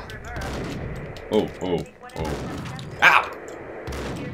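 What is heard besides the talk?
gunshots in the video game Max Payne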